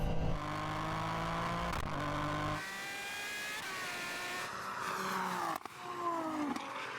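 Ferrari 812 and Toyota Yaris GR in a drag race, engines roaring under hard acceleration with rising pitch through gear changes, a sharp shift break near the end, sustained and fairly loud.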